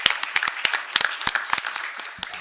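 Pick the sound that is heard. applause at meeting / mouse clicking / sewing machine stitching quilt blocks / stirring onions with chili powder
applause at meeting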